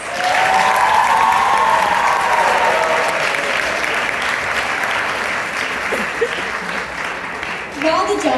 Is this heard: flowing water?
no